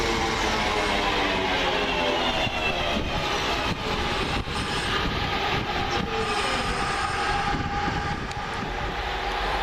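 A British Rail Class 323 electric train, unit 323241, rumbles past near Coseley with a loud, sustained roar, rattling wheels and faint squeals, no voices.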